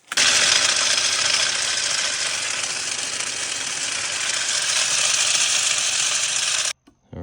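A Ridgid Flex Shaft drain cleaning machine runs at a remote jungle job site far from electricity, giving a loud, steady, broadband mechanical whir that holds for about six and a half seconds and then cuts off abruptly.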